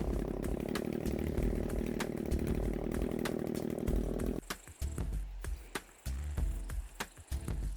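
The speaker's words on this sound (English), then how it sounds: "the next task is trimming the outside of the garden" A power trimmer cutting a garden hedge: a continuous buzzing motor whine for several seconds, then a cutoff followed by uneven revving bursts and snips, close and loud.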